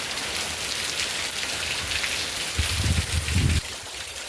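Heavy rain pours steadily on a farm at Sujatanagar in Bhadradri Kothagudem, beating on neem trees in gusty wind, with a continuous dense hiss and a few louder bursts of drumming near the end.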